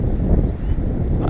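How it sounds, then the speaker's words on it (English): Steady, heavy wind buffeting a nearby microphone, a continuous low rumbling roar throughout. "sorry about the wind"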